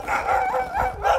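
A pregnant female dog gives several short, close yelping barks and whines in quick succession, fairly loud with no talking.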